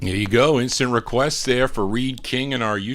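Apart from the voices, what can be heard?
No everyday noise stands out behind the speech.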